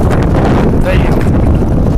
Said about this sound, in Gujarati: આપણા માથા ઉપરની ટોપી ઉડી જાય એવો પવન છે.